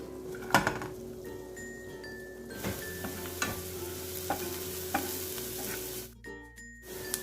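Finely chopped onion sizzles in butter in a hot pan for a street-style Bombay omelette, a steady close fry with occasional stirring scrapes and taps, no voices present.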